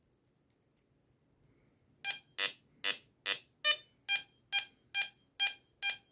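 A Garrett Apex metal detector passes over a stack of copper coins. After a quiet start, it gives a run of ten loud, evenly spaced beeps.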